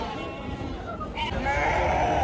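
Sheep at a large goat and sheep market in Chakan bleat in a loud chorus, several calls overlapping near and far against crowd murmur.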